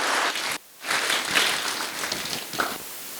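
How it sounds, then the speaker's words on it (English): An audience applauds young participants at a youth parliament event: a dense burst of clapping, a brief pause, then a second sustained round that swells and slowly tapers. "Once again, a big round of applause for these young"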